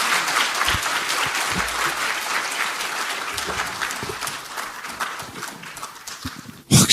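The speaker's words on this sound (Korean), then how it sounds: "큰 박수 부탁드립니다" A large audience at a Democratic Party new-member academy event in Korea breaks into sustained, dense applause that continues throughout, swelling briefly louder right at the end.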